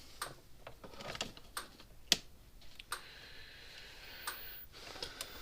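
A Kencove EK13 electric fence charger, a 110–120 volt unit in a blue case, ticks with sharp, irregular clicks close by, some louder than others, over a quiet background.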